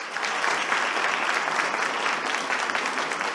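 Steady, dense applause from a crowd at an informal outdoor ceremony honoring a new honorary citizen of Campinas, sustained at an even level throughout.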